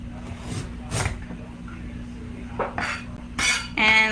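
Knife slicing a piece of food on a kitchen board while making fresh summer rolls, a few separate sharp cuts and clicks against the board with quiet gaps between them, recorded close over a steady low hum.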